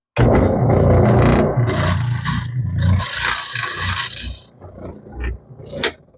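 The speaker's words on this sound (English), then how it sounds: "I'm hoping I can get that done with this little spindle" Small spindle sander working the edge of a wooden guitar body, a loud grinding rasp for the first few seconds that fades into intermittent scraping contacts and a final short scrape.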